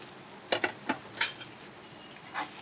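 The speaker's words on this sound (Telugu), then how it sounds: "ఇదిగోండి ఉల్లిపాయ ముక్కలు వేస్తున్నాను" Onion pieces dropped into hot oil in a kadai give a few short bursts of sizzling and a handful of quick scrapes over a quiet background, with no talking.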